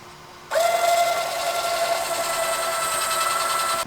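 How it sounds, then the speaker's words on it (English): A small handheld drill bores through hefty carbon fibre on a SAB Tortuga build, starting abruptly with a loud, steady high whine that holds for several seconds before cutting off. "I didn't realise there's some carbon fibre underneath, and it's pretty hefty stuff to drill through my little drill machine"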